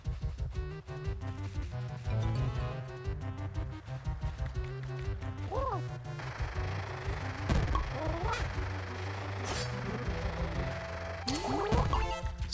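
Honking duck calls from the video game Scrabdackle repeat in short, loud bursts over steady game music, with a rising squawk now and then standing out from the backing.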